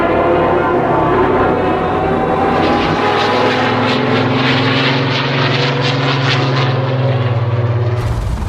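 World War II aircraft propeller engines drone loudly and steadily, a continuous heavy roar that shifts pitch as planes pass, with no voices.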